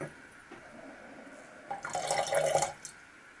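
Acid poured onto gold-plated RAM foils gives a faint trickle at first, then a louder bubbling, fizzing pour for about a second before it drops back to quiet.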